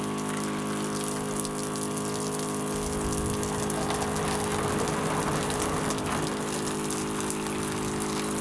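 Water runs steadily from a portable water tank in a truck camper setup, a continuous splashing gush that swells after the first few seconds and holds close and loud to the end, with no talking.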